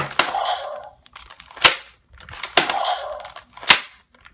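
Four sharp, loud mechanical smacks from the lever of a Power Rangers Dino Super Charge DX Dino Spike toy, each with a brief ratcheting lead-in, spaced about a second apart with no talking.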